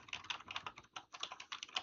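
Quick, uneven clicking of keys on a computer keyboard, close and fairly quiet, with short bursts and brief pauses between strokes and no voices.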